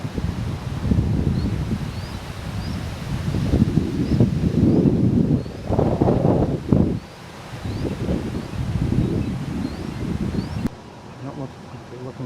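Wind buffets an outdoor microphone by a red-tailed hawk nest, a loud, steady low rumble with gusty surges that swamp faint voices underneath and drops away sharply near the end.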